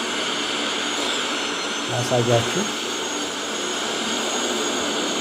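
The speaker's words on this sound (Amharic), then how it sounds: "ሌላ ፕሌን ደግሞ እየተነሳ ነው እንደምታዩት" A jet airliner takes off in Microsoft Flight Simulator at Addis Ababa Bole Airport. A steady broadband engine roar runs throughout while someone talks over it.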